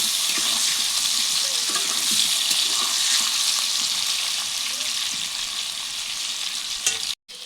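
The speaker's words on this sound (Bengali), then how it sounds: "এরপর আলুগুলি লাল লাল করে ভেজে নিচ্ছি।" Potatoes seasoned with salt and turmeric fry in a pan of oil for a Bengali mutton curry, giving a steady, close, bright sizzle that runs throughout and cuts out for a moment near the end.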